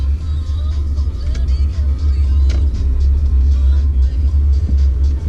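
Mercedes-Benz C-Class 220d, a 2019 facelift diesel, pulling away in drive on a road in Croatia, with a steady low engine rumble and road noise heard from inside the cabin.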